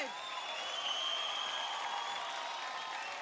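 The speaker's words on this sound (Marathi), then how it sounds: "जोरदार टाळ्या होऊन जाऊन दे" A TV dance competition studio audience breaks into loud, sustained applause, a dense wash of clapping and some cheering that holds steady throughout.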